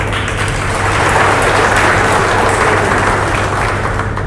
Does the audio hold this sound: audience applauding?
yes